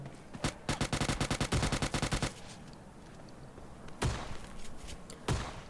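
Rapid burst of video game gunfire aimed at another player, about a dozen sharp shots in quick rhythm, followed by two louder single bangs after a pause, with game ambience underneath.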